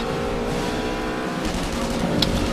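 Fast car driving in The Saboteur video game, a steady loud engine drone with a slight rise toward the end and no talk over it.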